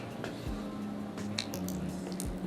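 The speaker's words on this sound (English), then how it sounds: "Now I'm going to mix it with my henna." Indigo dye paste is stirred into henna powder, giving soft, wet squishing and sticky smacking sounds at close range, repeated irregularly over a faint background hum.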